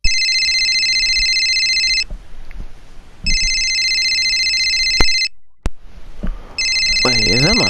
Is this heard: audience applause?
no